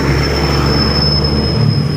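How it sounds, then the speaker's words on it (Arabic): Steady roar of passing car traffic outside a motorcycle showroom, a dense continuous rumble with a thin high whine running through it, loud and unbroken. "معلش بقى عشان صوت العربيات عامل ضوضاء شويه"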